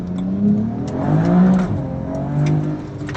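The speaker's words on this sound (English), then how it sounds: "I'll do another little first gear roll on. See if the tires hold." A BMW E92 335i with the N54 engine accelerates hard in first gear, its loud, close engine note rising and falling as the revs build, with no talking over it.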